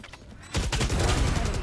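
Sustained burst of automatic gunfire in a competitive online shooter match, loud and dense after a brief quieter lead-in, rattling continuously with overlapping shots.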